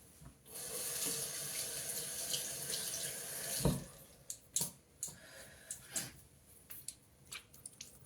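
A tap runs into a bowl while makeup brushes are rinsed, first as a steady close gush of water, then as sloshing, splashing and squishing as the water stops. No one speaks.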